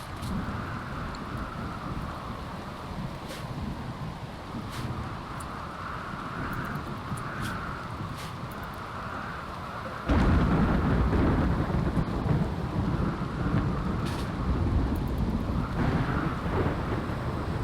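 Steady rain falls in the game RimWorld under a broad, rumbling wash of thunder, with scattered sharp crackles and a louder surge of storm noise midway that holds to the end.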